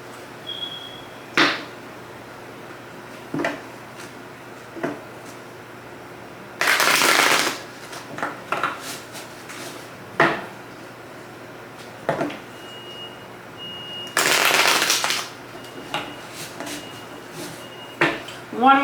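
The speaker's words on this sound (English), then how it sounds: "One more shuffle." Tarot cards are shuffled by hand in two distinct bursts of riffling, each about a second long, between soft taps and quiet talking.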